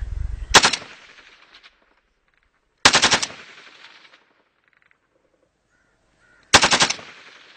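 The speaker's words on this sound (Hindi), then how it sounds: "लाइट मशीन गन मोड में इसको फायर करेंगे।" An automatic rifle switched to light machine gun mode fires three loud, sharp bursts outdoors on a firing range, each burst ringing out and decaying before a pause, with no talking.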